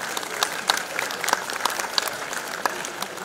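Students in an audience clap for themselves, a dense steady round of applause with a few sharper individual claps standing out near the listener.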